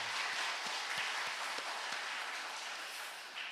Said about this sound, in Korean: 우리 오래간만에 찬양대 더 열심히 하도록 우리 박수 한번 할까요?